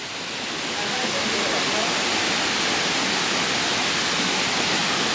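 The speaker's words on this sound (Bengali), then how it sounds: "ফাইনালি আমরা ঝর্ণা কাছে এসে পৌঁছে গেছি" Nohkalikai Waterfalls in Meghalaya, heard up close, pour out a loud, dense, unbroken roar of falling water that rises in the first moments and then holds steady.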